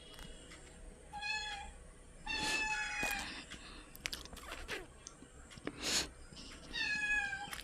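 A house cat meows several times indoors on a rainy day, with short, close, fairly clear calls separated by pauses and light background noise.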